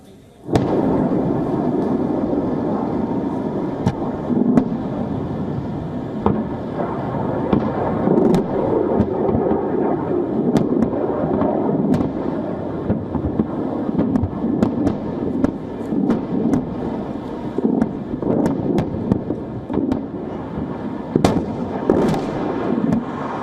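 Rockets fired from Gaza burst over Ashkelon, Israel, where a siren was triggered. A dense, continuous rumble of distant explosions and sharp pops runs throughout, loud and sustained, with faint voices beneath.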